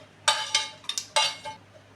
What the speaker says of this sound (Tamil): கிரவுண்ட்நட் சேர்த்துட்டு நல்லா மிக்ஸ் பண்ணி எடுத்துக்கோங்க